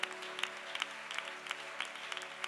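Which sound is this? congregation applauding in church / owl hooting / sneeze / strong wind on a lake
congregation applauding in church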